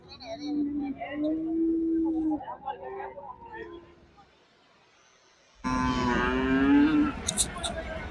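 Native-breed cattle low at the Kundadam livestock market, with long, loud moos close by, a pause of near silence, then a further burst of deep calls mixed with market noise.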